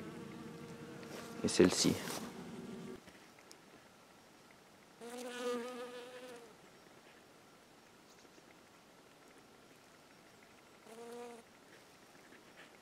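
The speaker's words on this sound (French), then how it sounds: "Alors, les abeilles, elles aiment bien." Bees buzz around Leonotis leonurus (lion's ear) flowers outdoors, a faint steady hum broken by a few louder passes close to the microphone; a voice speaks briefly.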